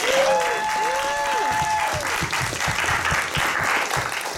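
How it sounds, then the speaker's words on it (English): A theater audience at an improvised play applauds loudly in a full, sustained burst of many hands, with a few whoops and cheers at the start and voices mixing in. "why don't we give them a big round of applause?"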